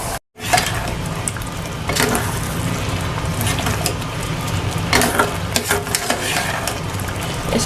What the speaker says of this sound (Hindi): अब इसे भून लेंगे।